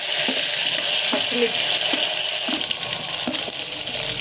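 Onions sizzle and crackle steadily in hot oil, with occasional scraping and stirring knocks from a utensil against the pan.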